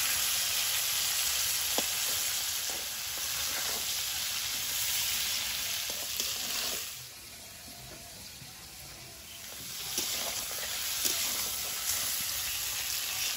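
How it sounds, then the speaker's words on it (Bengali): Prawns fry in leftover fish-frying oil in a wok, giving a steady, loud broadband sizzle with a few brief clinks. The sizzle dips noticeably around the middle before building back up, and no voices are heard. "কড়াইতে যে মাছ ভাজার তেল আছে ওতে চিংড়িটা ভেজে নেব"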